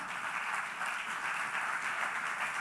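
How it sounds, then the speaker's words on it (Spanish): A church congregation applauds steadily as a dense, even wash of many hands clapping at once, sustained throughout with no single claps standing out. "¿Cuántos le dan un aplauso al Señor?"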